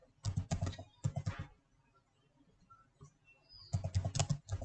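Close, quiet clatter of fingers typing on a computer keyboard into a command prompt, coming in two quick bursts of keystrokes separated by a short pause.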